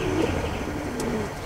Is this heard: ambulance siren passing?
no